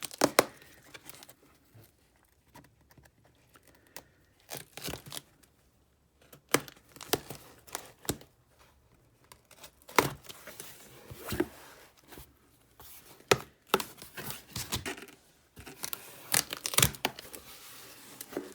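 Cutting open a mailed package of scraps of fabric and junk journal supplies, with bursts of tearing, crinkling and scraping at close range in a quiet room and brief pauses between strokes.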